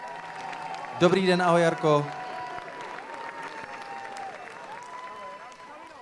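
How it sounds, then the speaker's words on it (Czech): An audience claps to welcome a guest on stage at a folk dance festival competition in a hall. The steady applause continues in the background while a woman gives a short spoken greeting over it. "Můžete ji přivítat potleskem"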